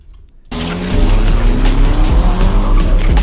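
A car in the street-racing game NFS Unbound starts loud after a brief quiet moment, its engine revving hard and tires squealing as it pulls away and accelerates.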